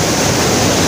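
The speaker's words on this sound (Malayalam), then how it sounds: "അടിപൊളി വെള്ളച്ചാട്ടം വരുന്നു." Rushing water from Thusharagiri waterfall in a forest, a steady broadband roar that stays constant and loud throughout with no breaks.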